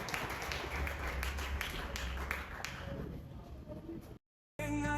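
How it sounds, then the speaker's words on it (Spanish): A church congregation applauds during a Spanish-language service, a dense steady clapping with some voices mixed in before it cuts out briefly near the end. "Denles aplauso al Rey"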